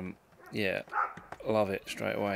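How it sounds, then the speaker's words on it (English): A dog barks and yips in the background of a rural home while someone talks over it; several short bursts break through between his words. "Apologies for the dog in the background."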